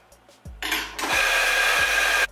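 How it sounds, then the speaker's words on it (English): An espresso coffee grinder whirs loudly as it grinds beans in a short purge. A few light clicks come first, then a steady, harsh grinding noise that runs for just over a second before it cuts off. "purge the grinder a little bit"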